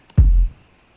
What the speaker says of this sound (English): This is just a Cashmere kick.